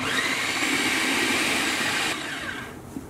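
A blender running on low speed mixing unsweetened yogurt for Persian Mast o Kadoo, a steady close whirring drone that cuts off near the end, leaving a faint fading hum.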